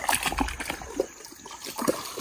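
Spring water seeps from an earthen bank into a small pool on a ranch, a soft continuous trickle with faint splashes and gurgles, close by and alone.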